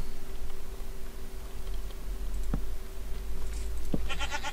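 Goat bleating in the video game Minecraft, a couple of short bleats over a steady low hum, with brief clicking sounds near the end; no speech.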